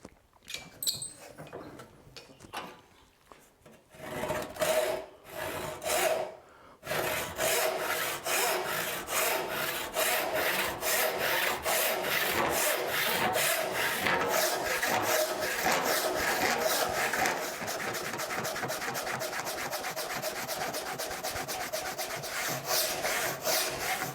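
A hand saw cuts straight along a marked line in wood, beginning with a few tentative strokes and settling into a fast, steady back-and-forth rasp that runs on close and loud.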